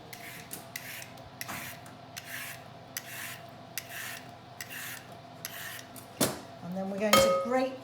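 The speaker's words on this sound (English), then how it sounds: "the carrot, you need to cut off the end and peel it." A peeler scrapes along a carrot in a kitchen, making a steady series of short raspy strokes about twice a second, close and fairly quiet, followed by a few sharp clinks near the end.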